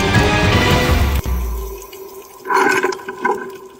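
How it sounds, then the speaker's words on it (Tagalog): Strong underwater current rushes near Verde Island, a loud churning wash that eases into quieter gurgling and bubbling swirls. "Kita sa kuhang ito ang malakas sa undercurrent o agos sa ilalim ng tubig"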